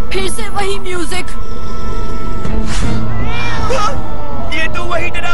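Cartoon cat meowing in a Hindi-dubbed BoboiBoy episode, its wavering cries rising over busy background music and effects, with voices talking around it.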